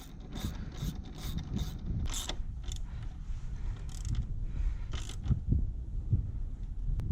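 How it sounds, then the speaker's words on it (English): Torque wrench tightening the rear shock bolt on a 2003 Honda Rebel motorcycle, producing a run of quick ratcheting clicks and small metallic creaks, faint and close over low background rumble, no talking. "get your torque wrench out, find out what the torque specs for this are"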